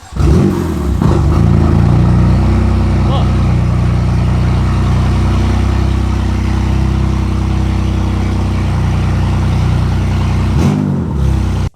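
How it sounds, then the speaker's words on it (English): A BMW F82 M4 Competition engine runs with no exhaust fitted, a loud, raw, droning rumble held steady close by for several seconds before cutting off. "we're gonna start it one more time with no exhaust"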